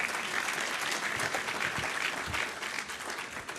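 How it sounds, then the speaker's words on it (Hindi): Dense, steady applause from a seated audience at a public speech event, a brief burst of many hands clapping together that eases slightly toward the end. "इस बात पर ताली बजाइए"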